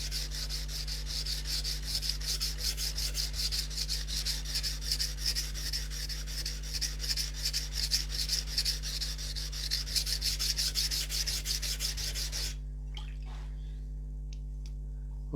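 Steady, close rasping of a knife blade rubbed back and forth on an NSK Oboro sharpening stone, the strokes continuous for about twelve seconds before stopping abruptly, leaving a quiet background hum.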